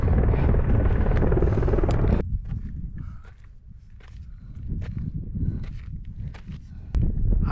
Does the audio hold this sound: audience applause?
no